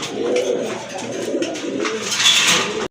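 A pigeon, a sale bird with distinctive butter-coloured eyes, coos softly and steadily amid light background bird noise, with no talking.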